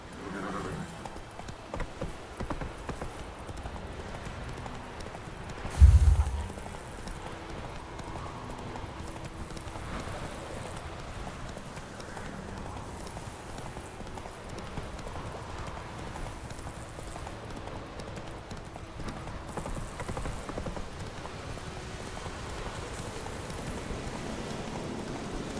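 Roach, the horse in The Witcher 3, moves with faint continuous clip-clop hoofbeats over a steady ambient wash, with one louder thump early on and no speech.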